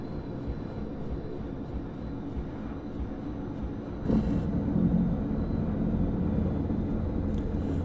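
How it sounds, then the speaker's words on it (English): A low engine rumble holds steady, then a click as something engages and the drone grows fuller and louder, a Kawasaki BK 117 helicopter starting up in a flight simulator with rising whine as the rotor speeds up. "I can hear things starting and the rotor appears to be speeding up"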